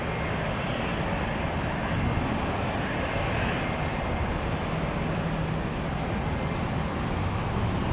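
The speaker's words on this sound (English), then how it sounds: "our FedEx 647 is going to Memphis. The Elvis Presley special. 767 heavy jet" A FedEx Boeing 767 heavy jet rumbles steadily at an airport, its loud broadband engine roar filling the whole stretch without a break, close and constant with no voices over it.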